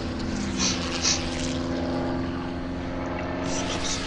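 Propeller aircraft drone overhead in the World War II shooter Brothers in Arms: Road to Hill 30, a steady, layered engine hum with a few brief louder bursts.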